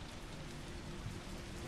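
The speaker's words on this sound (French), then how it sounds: "Je sais pas, vous entendez la pluie ou pas" Rain falling in the Resident Evil 3 video game, a steady, even hiss of drops on surfaces with a faint low rumble underneath, quiet and continuous.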